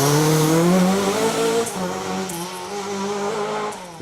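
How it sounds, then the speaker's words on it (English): Rally car engine bouncing off the rev limiter on a wide road during a special stage of the Manx Rally, a loud, sustained buzzing drone with rapid stuttering cuts, close by, with no voices. "Cars on the rev limiter."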